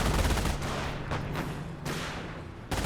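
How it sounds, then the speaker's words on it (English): Battle gunfire in the game Company of Heroes, where a sniper is firing: several sharp shots crack out at uneven intervals over a low rumbling war backdrop, with one loud final report. "Sniper's firing good shots there."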